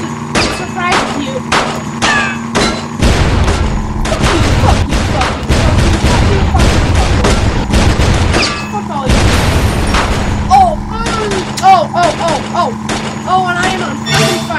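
Burnin' Rubber 5 gameplay with loud shooting, sharp shots in quick bursts and heavy booming blasts in between, over engine-like rumble and scattered electronic game blips.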